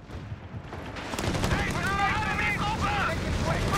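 Gunfire in Company of Heroes 3, a battlefield din of scattered shots and rumbling blasts that swells after the first second and keeps going, with faint whistling tones over it and voices heard in the background.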